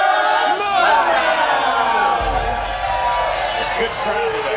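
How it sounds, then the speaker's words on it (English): Live studio audience at a Movie Trivia Schmoedown cheering and whooping loudly and steadily, a dense roar of many voices with shouts rising above it throughout. "Good crowd today."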